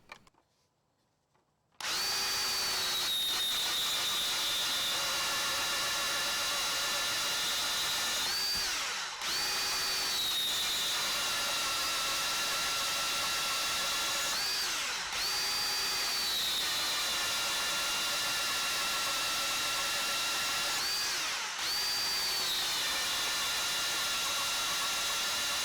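A Ryobi 18V cordless band saw cuts through rebar held in a clamp, giving a steady, loud motor whine with a grinding blade. The sound runs continuously for over twenty seconds, broken by a few brief dips.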